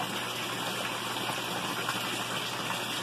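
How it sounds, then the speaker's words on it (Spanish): A pumped water jet from an aquaponics sump pours steadily back into the pool, a constant close gushing and splashing with no pauses and no voices. "Y este chorro que sale del sumidero hace la recirculación del agua."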